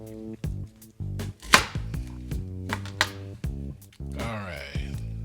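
A knife chops Brussels sprouts on a board, a dozen or so sharp, close knocks at an uneven pace, with a voice talking throughout.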